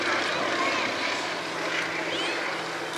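Fairey Swordfish biplane with a Bristol Pegasus radial engine flying at an air show, a steady broad propeller-and-engine roar sustained throughout the short stretch.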